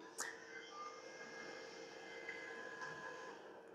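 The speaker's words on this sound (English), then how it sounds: "let's turn that off so that the fan is not running" The cooling fan of a K2 Plus 3D printer whirs steadily at low volume, a faint continuous hum with a brief click near the start.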